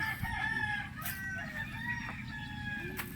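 A rooster crows over a steady low rumble in a backyard vegetable garden, with faint clucking and bird calls in the background.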